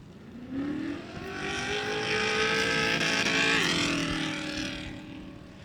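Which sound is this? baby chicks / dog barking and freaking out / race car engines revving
race car engines revving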